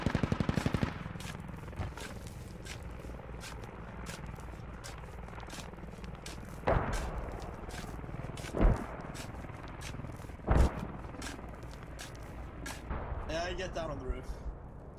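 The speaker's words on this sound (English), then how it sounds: "Mortars incoming on their hub." Mortar rounds in the Squad shooter land as heavy, booming impacts at intervals amid constant gunfire crackle and rumbling battle noise, with players talking throughout.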